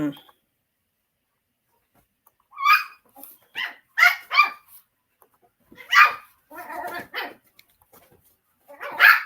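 Young dogs give a string of close, sharp barks and yips in irregular bursts, with short quiet gaps between them.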